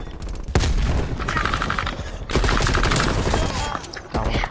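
Gunfire in Call of Duty on the Nuketown map: rapid automatic bursts and heavy booming shots come in loud clustered volleys with short gaps between them.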